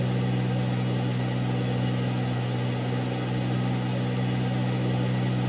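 The engine of a Beechcraft Baron B58 in the X-Plane 11 flight simulator drones steadily with one engine operating, a loud, even, continuous hum with a strong low tone and no changes or voices.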